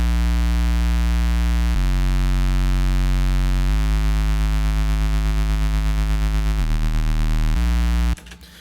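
A synth bass built from a saw wave and a square wave operator plays loud, sustained buzzing notes that step between pitches, then cuts off abruptly into brief noise at the end.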